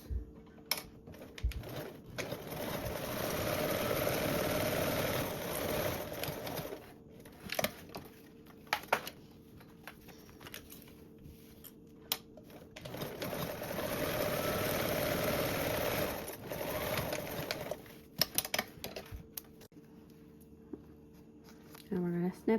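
A sewing machine runs two long bursts of stitching along a quarter-inch seam, a near, steady mechanical whir that stops and starts, with handling clicks between runs.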